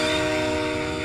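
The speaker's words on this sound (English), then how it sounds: "Scream Train." The Scream Train's horn from the video game Overkill blares as a loud, sustained, droning multi-tone blast that holds steady for the whole moment without fading.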